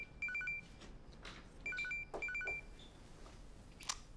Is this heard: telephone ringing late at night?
yes